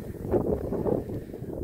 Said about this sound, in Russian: А тут просто порывы ветра.